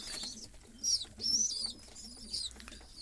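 A Kamagar pigeon coos softly in low, repeated throaty calls, close by, with thin high chirps of smaller birds mixed in and no one speaking.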